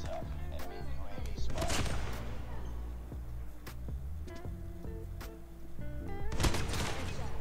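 Rapid bursts of gunfire in a first-person shooter match, with shots scattered across the stretch amid game music and effects, plus speech over them.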